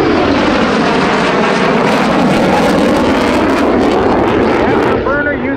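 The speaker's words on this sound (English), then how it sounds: "F-100F Super Sabre, the two-seat version. Here it comes again. Look at the smoke and get ready for the burner." An F-100F Super Sabre two-seat jet roars past at close range at the Terre Haute airshow, a loud broadband afterburner rumble that holds steady and then starts to fade. A narrator talks over the noise.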